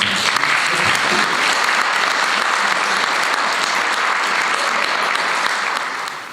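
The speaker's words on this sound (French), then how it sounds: "ça mériterait de notre part une bonne main d'applaudissements" An indoor audience at a historical society's anniversary launch gives volunteers a steady round of applause, dense uniform clapping filling the room and fading slightly at the end.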